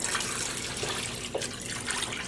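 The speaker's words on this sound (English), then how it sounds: "I'm going to go ahead and add some more water." Water pours steadily from a tap into a yarn dye pot, a continuous splashing, trickling stream heard fairly close and alone.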